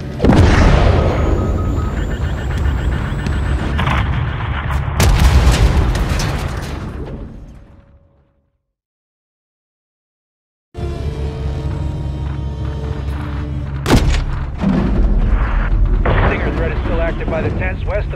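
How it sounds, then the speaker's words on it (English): Call of Duty Modern Warfare III battle: a missile strikes a tank amid heavy, roaring explosions and artillery-like booms, with a voice talking over them. A sudden near-silent gap of a few seconds breaks the chaos before it resumes with further blasts. "Hit him with a missile"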